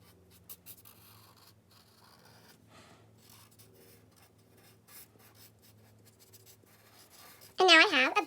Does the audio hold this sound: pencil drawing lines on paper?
yes